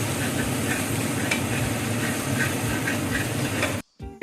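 Vegetables fry in a pan for khichdi, a loud continuous sizzle and hiss with faint stirring that runs steadily before cutting out abruptly near the end, then a short burst returns.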